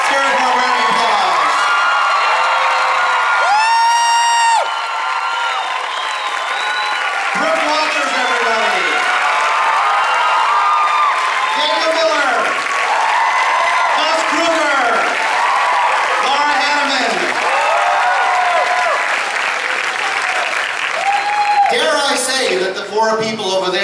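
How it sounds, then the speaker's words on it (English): A large crowd at Knott's Berry Farm's Halloween Haunt preview event claps and cheers continuously, with whoops and shouts rising over the applause while an amplified voice speaks at times. "please give them a warm Scary Farm round of applause"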